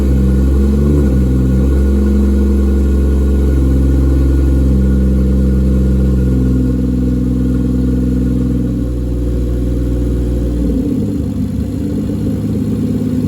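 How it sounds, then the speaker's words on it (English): A turbocharged Toyota 2JZ-GE engine idling up close, a loud steady low hum that shifts slightly as the idle is lowered, no voices. "so we're gonna go ahead and lower the idle."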